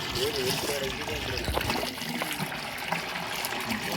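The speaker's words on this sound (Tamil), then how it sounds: "இன்னும் கொஞ்சம் தண்ணி தேவையான ஊற்றிடலாம்." Water poured into a bamboo stalk for a village-style chicken biryani cooked outdoors, a steady trickle and dribble of liquid running under outdoor background noise and voices.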